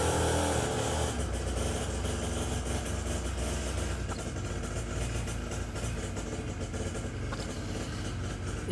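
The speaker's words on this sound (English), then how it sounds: "my neighbour trying and failing to adjust a two-stroke engine to run consistently" Badly adjusted two-stroke engine on a neighbour's machine running unevenly, a loud continuous buzzing drone with wavering, surging tone, heard from some distance with no talk.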